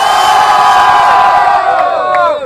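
A crowd at the 2015 final of an outdoor rap battle at a Rio de Janeiro street culture gathering roars, cheers and shouts loudly and continuously, then the noise tapers slightly toward the end.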